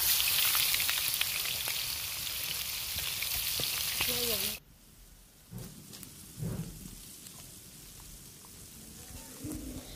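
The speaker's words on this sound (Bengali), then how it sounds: "আর এই তো তেল গরম করে আমি চিকেনগুলো ছেড়ে দিয়েছি তেলের মধ্যে" Chicken pieces frying in hot oil produce a loud, dense sizzle for several seconds that then cuts off abruptly, leaving quieter kitchen clatter and faint knocks.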